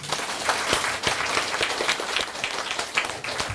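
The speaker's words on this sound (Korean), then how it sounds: "박수 한번 치세요" Audience applause at an author talk with a Buddhist monk, a crowd clapping steadily and evenly throughout, moderately loud, no voices.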